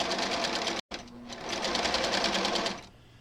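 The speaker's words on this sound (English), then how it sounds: "Right sides together, nest your seams, and sew a scant 1/4 inch." A sewing machine stitching a scant quarter-inch seam on a quilt block, a fast steady whirr running close and loud for about two seconds after a brief stop.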